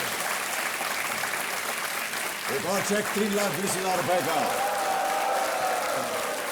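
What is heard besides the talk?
applause from studio audience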